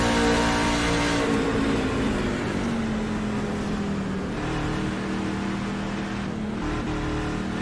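Onboard the number 23 racing truck in an SS Truck Series race, the engine roars steadily at speed with close, loud, droning harmonics that rise and fall slightly with throttle and no pause.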